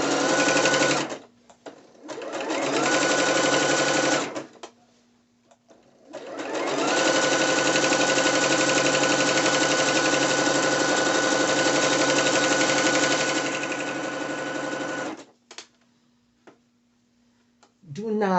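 A sewing machine stitches along the edge of a drawstring ruched skirt in loud, close bursts, with short stops and one long steady run, and a faint hum lingering in the gaps.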